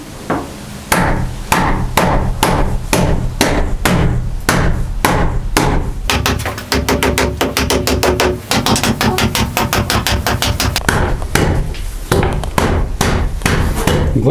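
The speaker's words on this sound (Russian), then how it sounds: "Главное не треснуть молотком." A hammer with a wooden handle strikes repeatedly while a storage room is being fitted out, in loud, sharp blows: slow, spaced hits at first, then a rapid run of fast strikes, then slower blows again.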